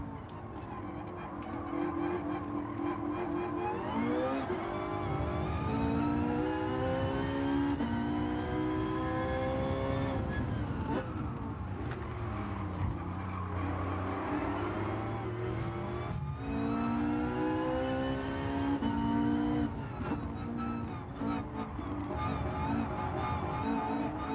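Car engine in Gran Turismo 7 rallycross racing, steered on the throttle, loud and continuous, revving up and down through gear changes with whining pitch sweeps throughout.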